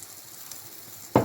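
Stuffed bread dough made with tuna fries in a little oil in a pan, a faint steady sizzle close by, ending in a sudden louder burst of crackle, with no talk.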